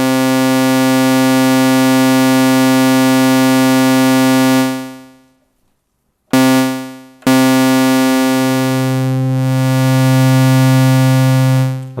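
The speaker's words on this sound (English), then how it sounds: "Now if we ring modulate that sine wave," A ring-modulated sine wave on an Elektron Syntakt synthesizer sounds as a bright, buzzy sustained tone that drops out, stutters back, then continues with a deeper layer fading in.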